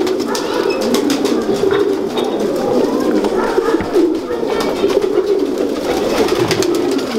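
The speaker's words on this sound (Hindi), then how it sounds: "ये मैं आपको सरफराज भाई वाले सुर्ख लाल शेड वाले कबूतर हैं।" Red-shaded breeder pigeons in a loft give continuous overlapping low cooing and wing flutters, close and dense, with faint voices now and then in the background.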